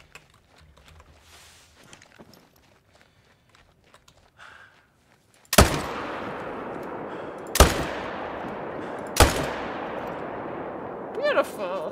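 Three or four sharp, loud rifle shots from an Arzina 300 Mag Tactical in a whitetail hunting video game, spaced a couple of seconds apart, each followed by a ringing decay after quieter ambience.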